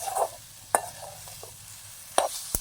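Eggs scrambled with tomatoes in a frying pan, with a soft steady sizzle broken by a few sharp clinks and scrapes of stirring.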